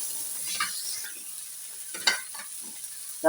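Onions sautéing in a pan as salt is added, giving a faint, steady sizzle with a few soft stirring scrapes and a louder clatter at the end, with no talking.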